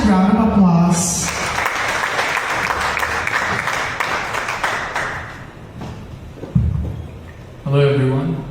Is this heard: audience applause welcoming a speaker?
yes